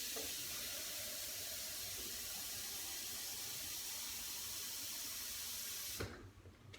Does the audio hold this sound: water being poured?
yes